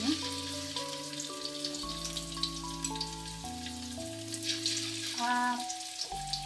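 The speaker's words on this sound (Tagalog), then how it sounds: "ipiprito natin yung ating shrimp" Shrimp frying in a preheated wok, with a steady crackling sizzle under sustained background music tones and occasional spits and pops.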